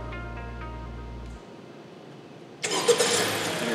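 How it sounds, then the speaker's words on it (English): A 2017 Honda Civic Hatchback's engine started by remote start from the key fob: after a quiet pause a low hum cuts out, then the engine catches abruptly and settles into a steady, close idle. "All you do is push it, hold the start button,"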